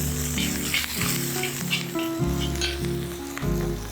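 Spring onions sizzle loudly in a pan as fried rice is stir-fried, a steady close hiss with crackles throughout, with low tonal music in the background.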